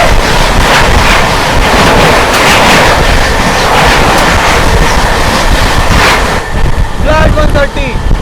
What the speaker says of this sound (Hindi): सामने से आ रही है 22823 भुवनेश्वर न्यू दिल्ली तेजस राजधानी एक्सप्रेस